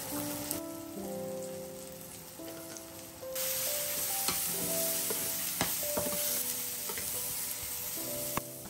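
Onions fry in a pan with salt, pepper, cumin, turmeric and curry powders while being stirred. A steady sizzle grows louder partway through, with occasional scrapes, beneath melodic background music and no speech.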